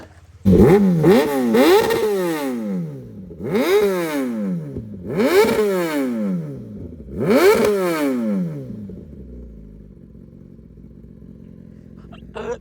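A Kawasaki ZX-10R sport motorcycle revs hard four times in succession, each blip rising sharply and falling back, close and loud, then settles into a low idle.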